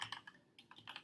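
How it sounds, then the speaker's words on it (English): A new mechanical computer keyboard clicks under quick typing, with a short run of sharp, close keystrokes in an uneven rhythm, quiet overall and with no voices. "I'm sorry about the click noise because that is my new keyboard."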